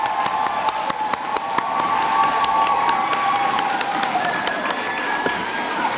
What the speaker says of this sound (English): Nice round of applause for yourselves again